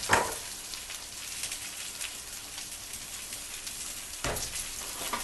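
Italian sausage and hamburger meat fry in a pan for a lasagna sauce, giving a steady, close crackling sizzle throughout with a louder burst near the end.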